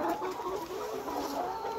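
Nourish-breed layer hens at 142 days old, just coming into lay on a poultry farm, cluck and murmur faintly and continuously as a distant flock.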